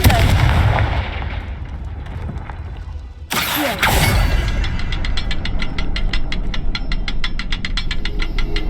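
A Confringo fire spell cast in the Hogwarts Legacy video game bursts in with a loud, sudden blast, followed by a sustained rumble and a run of rapid crackling pulses trailing off.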